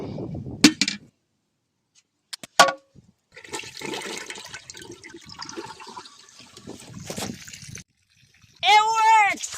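A homemade toilet built into a car flushes in a short gurgling whoosh of water, after scattered bumps and handling noises, and a voice starts speaking right at the end.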